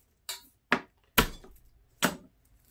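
Fresh hard garlic cloves are smashed one after another with four sharp, separate whacks on a cutting board, loud and close, with short pauses between blows and no talking.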